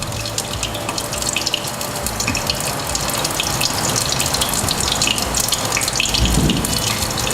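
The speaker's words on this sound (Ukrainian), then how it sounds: "Додаємо солі додаємо трошки перцю і заливаємо кефіром." Kefir pours from a carton over chopped vegetables for okroshka in a kitchen, a steady liquid gush and glug running close and continuous throughout, with no talk over it.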